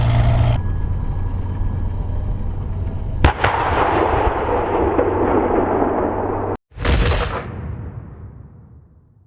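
An Italian C1 Ariete tank fires its main gun during a live-fire tank crew competition: two sharp, loud blasts a few seconds apart, each followed by a long rolling echo that fades out.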